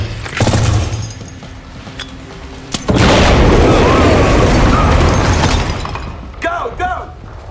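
A stun grenade going off in a tactical game, a sharp loud boom followed by a sustained roaring blast and fading rumble, with brief talking and clatter before and after.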